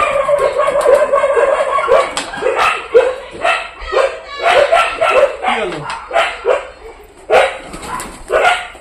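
Dogs bark insistently nearby in irregular bursts of yips and woofs, loud and close, while a voice talks at times between them.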